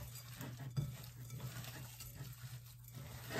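Salisbury steak patty mixture being mixed by hand in a bowl, with soft, faint squelching and stirring over a steady low hum and occasional light clinks.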